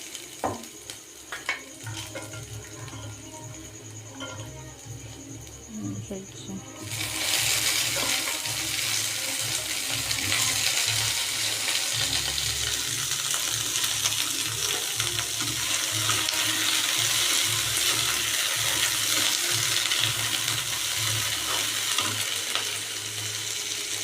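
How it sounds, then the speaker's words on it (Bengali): Mixed vegetables, added after lightly fried chopped garlic and onion, sizzle in a pan over a high gas flame, a steady loud hiss that jumps up sharply partway through and continues unbroken with no talking. "গ্যাসের ফ্লেমটা আমি হাই করে দিলাম, দিয়ে হালকা করে ভেজে নেব সবজিগুলো"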